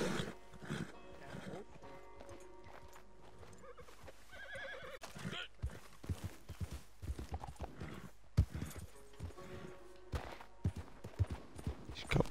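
Hooves clip-clop irregularly in Red Dead Online, with horse whinnies, snorts and other game sounds mixed in, fairly quiet, while people talk over the action.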